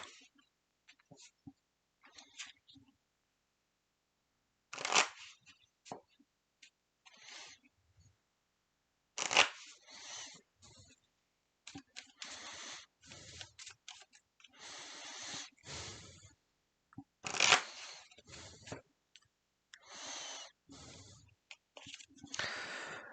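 Character cards for the Dark Venture board game shuffled by hand in a solo session, giving bursts of crisp papery riffling and flicking that come in uneven clusters with short quiet gaps, close and fairly soft.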